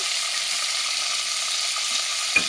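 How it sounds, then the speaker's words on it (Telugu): Mutton with bell peppers frying in a pan, a steady close sizzle running without a break, with one small clink near the end. "ఒక 5 నిమిషాలు వేగాలి"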